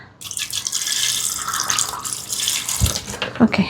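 Ice water splashes and pours steadily into a container for sugarcane juice, a continuous close-up liquid rush with a few drips near the end.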